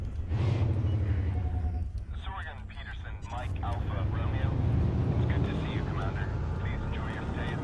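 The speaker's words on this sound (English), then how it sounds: "now here's the engines, guys. Let's listen to the engines here." Panther Clipper ship engines in Elite Dangerous, a deep sustained rumbling drone with a low throbbing hum, rising slightly midway, while someone talks over it throughout.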